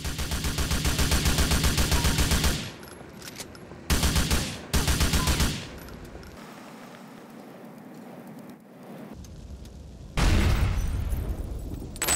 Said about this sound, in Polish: teraz zobaczmy sobie, czy gdy będziemy ostrzeliwać butlę z gazem, to czy doprowadzimy do tego, w sensie z M4